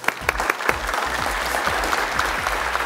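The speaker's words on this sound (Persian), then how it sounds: "اردویشان رو تشویق کنید." A game show studio audience claps together in a dense, steady round of applause, close and loud, with individual hand claps popping out at the start and the crowd noise holding evenly throughout.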